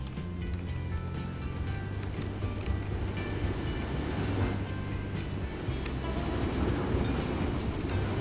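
Trains running in the Transport Fever video game on a river delta map, a steady low rumble of rolling rail traffic with a faint hiss, constant and moderately loud throughout.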